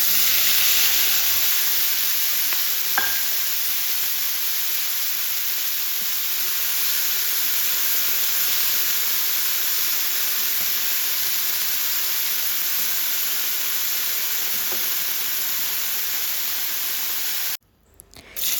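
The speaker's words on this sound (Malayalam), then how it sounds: "ഇനി നമുക്കിത് എണ്ണയിലിട്ടിട്ടൊന്ന് ഫ്രൈ ആക്കിയിട്ട് എടുത്താൽ മതി" Prawn heads fry in hot oil in a pan, giving a constant, loud hiss and sizzle that carries on steadily for nearly the whole clip before it cuts off abruptly near the end.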